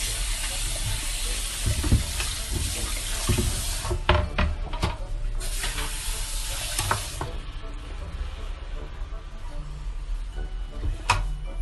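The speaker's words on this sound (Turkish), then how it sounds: "Şimdi tahtamızı yıkıyoruz ki sebzelerimizi doğrayacağız." A cutting board is rinsed under a running kitchen tap, with a steady loud stream of water, some knocks and clatters of the board against the sink, and the flow easing slightly toward the end.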